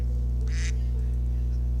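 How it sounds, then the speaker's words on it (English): A duck quacks once in a short burst, set against a steady low electrical hum in an indoor room during a figure drawing session. "And the duck is quacking."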